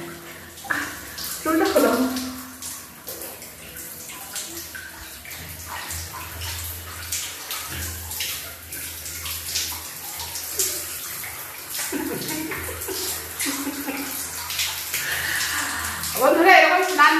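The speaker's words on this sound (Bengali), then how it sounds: "আমরা দুজনে স্নান করছি" Two people bathing together in a bathroom, with water splashing and running steadily throughout, irregular sloshes and pours rising and falling under frequent talking between them.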